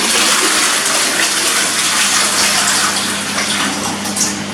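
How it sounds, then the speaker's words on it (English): A toilet flushes, a loud continuous rush of water gushing steadily from start to finish, close by. "push the flush."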